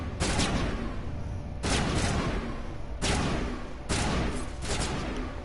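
Gunfire in the Mass Effect video game: four heavy, booming bursts roughly a second apart, loud and dense, each trailing into a long rumble, with no voices.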